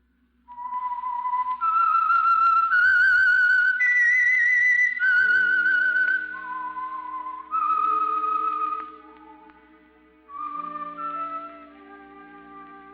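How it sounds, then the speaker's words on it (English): A lone whistler carries the eerie, descending theme signal of The Whistler radio program, sustained melodic notes in a clear sequence with brief pauses between phrases, close and alone. "That whistle is your signal for the Signal Oil program, The Whistler."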